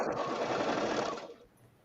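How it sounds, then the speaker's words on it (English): A sewing machine runs in a rapid, steady stitching burst on fabric scraps, fairly close, then stops abruptly. "Now I hear the sewing machine."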